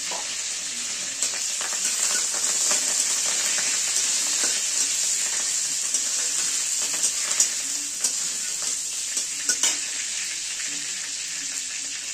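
Sliced onion frying in a pan with mustard seeds, green chili and curry leaves for chire polao, a steady bright sizzle with scattered small pops and crackles, close and continuous, no talking.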